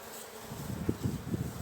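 A dense, steady buzz of many honeybees at an open hive close by, as powdered sugar is dusted over them, with soft bumps and rustles underneath.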